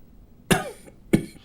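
Two sharp, close coughs from a man, spaced about half a second apart, each a harsh burst, heard against a quiet room with no talking.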